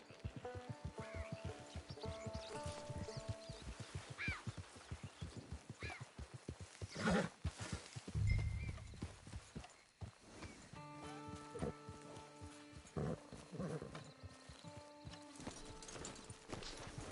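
Horse hooves clip-clop at a steady walking pace in the Red Dead Redemption 2 video game, rhythmic and close, with a brief whinny and low rumble midway over soft ambient music.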